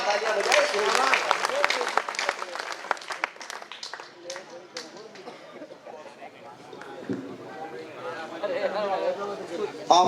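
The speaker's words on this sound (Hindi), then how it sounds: "पूरा सदन एक बार बड़े व्यक्तित्व के लिए जोरदार तालियां बजाए।" Applause from an audience at an open-air poetry gathering held for a Ganesh festival, a dense clatter of clapping that swells early and then thins, mixed with crowd chatter and a voice talking over it.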